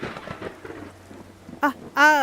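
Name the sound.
thunderstorm in video game Skyrim VR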